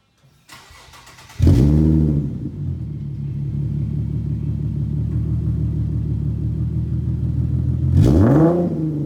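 An Infiniti Q50 fitted with a dual-in, dual-out Borla muffler exhaust starts with a sharp rev, settles into a deep, steady rumbling idle close by, then blips the throttle again near the end.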